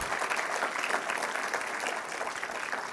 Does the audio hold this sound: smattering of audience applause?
yes